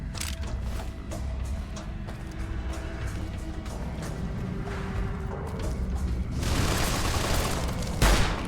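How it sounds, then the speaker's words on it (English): Light machine gun fire in Fallout: New Vegas, a dense continuous rattle of distant shots under a steady background din, swelling into a louder wash of noise near the end. "A light machine gun."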